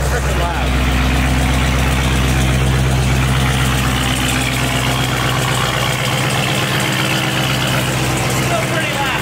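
Dodge Hellcat V8 idling with its exhaust reinstalled: a loud, steady, deep rumbling burble held throughout, close by, while a voice talks over it.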